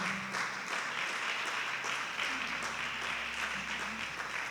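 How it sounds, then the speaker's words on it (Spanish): Congregation clapping in a church service, a broad continuous wash of many hands with a low hum beneath, steady and fairly even for a few seconds. "Aplauda al Señor"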